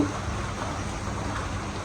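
Even, steady hiss of heavy rain falling at a village house, constant and unbroken throughout, with no voices.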